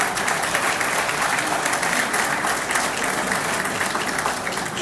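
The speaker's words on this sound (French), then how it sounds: "je demande un applaudissement particulier pour l'ambassadeur de Chine qui est avec nous dans la salle" Steady, dense applause from an audience in a hall at an award ceremony for laureates, given in honour of the Chinese ambassador. It fills the whole stretch evenly, with no voices over it.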